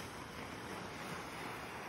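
Steady surf washes in continuously, a broad rushing roar of waves with wind noise over the microphone and no voices.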